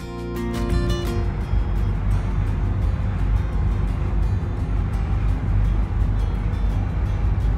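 Steady engine rumble and broad water wash from a small ferry crossing Sydney harbour, continuous and fairly loud throughout with no talk.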